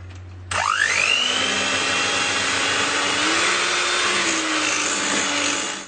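An electric mixer beats a lemon juice mixture for a no-bake Oreo treat, starting abruptly with a rising whine that settles into a steady, loud whirring hum close by.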